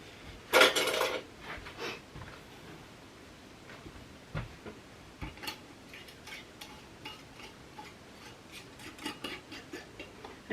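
Lids being screwed onto glass canning jars of dry pinto beans, heard as clinks, taps and metallic scraping at close range. One loud rattle comes early, followed by scattered ticks and clicks.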